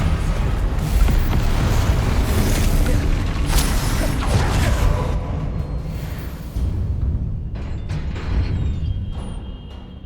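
Spell blasts and explosions from Confringo and other combat spells in Hogwarts Legacy boom in heavy, overlapping bursts, rumbling loudly before thinning out into quieter mechanical creaks and scattered impacts.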